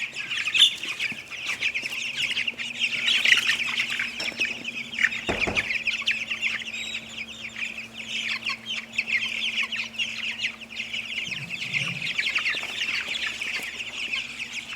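Many Cornish Cross meat chickens cluck and chatter steadily in a cramped coop, a dense flock sound over a low constant hum, with a brief thump near the middle.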